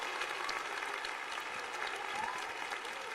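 Steady applause from a baseball stadium crowd during a Phillies versus Giants game, a dense continuous patter of many hands at moderate distance with a faint murmur underneath.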